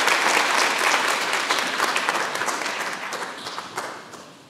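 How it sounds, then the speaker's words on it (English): Congregation applauding at a Sunday morning Holy Mass in church, a dense, sustained round of clapping that starts full and gradually tapers off over several seconds. "Let's give them another round of applause."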